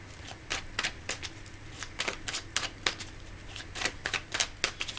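A deck of tarot cards is shuffled by hand up close, giving quick, crisp riffling bursts in an irregular rhythm over about five seconds, with no voices.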